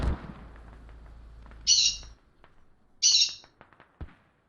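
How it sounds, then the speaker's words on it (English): Birds screech nearby during a military game match broadcast, two sharp high squawks a little over a second apart rising over a quiet background with faint game sounds. "Apologies for the birds screeching in the background"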